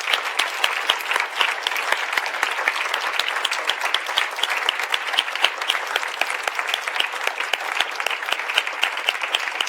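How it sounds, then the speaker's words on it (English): Sustained applause from a conference audience thanking the event staff, a dense, steady wash of many hands clapping at a close, even level for the whole stretch with no talk over it. "Can we give a huge round of applause to them?"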